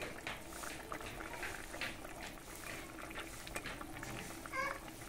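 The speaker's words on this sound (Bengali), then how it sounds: "এখানে ঝোল খুব ভালো করে ফুটে গেছে" Bengali fish curry broth with fried prawns and bata fish bubbling in a pot, a soft steady boil with scattered small pops and bubbling, faint and close, with no one talking.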